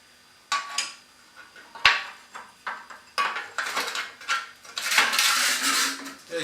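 The metal grate of a Stanley multifuel cooker range is handled, giving a series of close metallic clanks, scrapes and rattles in irregular bursts, with a sharp knock near the start and a busier rattling stretch at the end.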